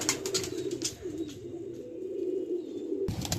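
Soft pigeon coos repeat as low, rounded calls through a quiet space. A brief rustle comes near the end.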